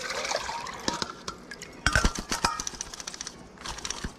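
Water drains and drips from evergreen huckleberries in a strainer, with a steady trickle and patter and a few sharper splashes and clicks near the middle, heard close up with no talk.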